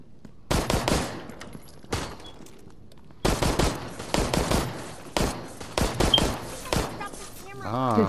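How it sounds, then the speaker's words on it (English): Air gun fire in the Resident Evil Resistance video game comes in rapid bursts of sharp cracks with short pauses between volleys, loud and close, under occasional talk. "Yeah, he uses air gun."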